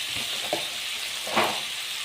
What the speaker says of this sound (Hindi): अब फटाफट से टमाटर को भून लेते हैं